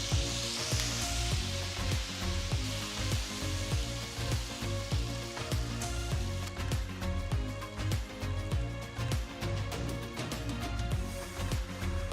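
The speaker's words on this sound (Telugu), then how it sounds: "ఇప్పుడు చింతపండు రసాన్ని ప్యాన్లో వేస్తున్నాను" Tamarind juice, squeezed from soaked tamarind pulp, hits a hot pan with a loud, steady sizzle and bubbling that carries on for about twelve seconds, with a burst of hissing at the start and no voices.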